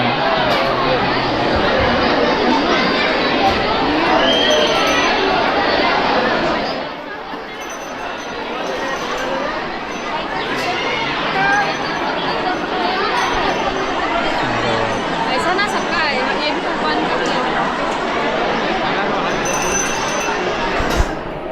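Dense crowd chatter from devotees at Jivdani temple in Virar, a loud continuous babble of many overlapping voices nearby, easing slightly for a moment before filling back in.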